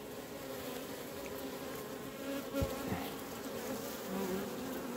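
Honeybees buzz steadily around an opened hive colony, a dense continuous drone of many insects close by, with occasional louder passes of individual bees and no talking.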